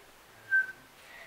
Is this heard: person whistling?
yes